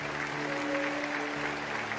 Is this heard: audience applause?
yes